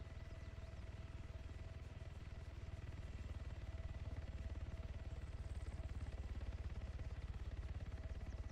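A helicopter in a video game touches down nearby, a steady, continuous rotor and engine drone that stays fairly quiet and even throughout, with no talking.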